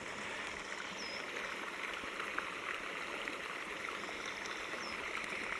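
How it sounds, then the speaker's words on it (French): A stream flows through a Corsican forest, a faint, steady wash of running water heard from a distance with no voices. "c'est bien de l'eau qu'on entend."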